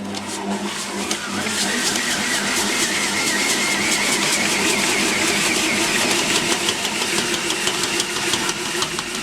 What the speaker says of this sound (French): Et je vais faire tourner ça en deuxième vitesse 6 minutes.